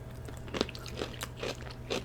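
Someone bites and chews a Chick-fil-A spicy chicken sandwich with pickles and sauce, close up: four distinct crunchy bites spaced about half a second apart over a low steady hum, with no talking.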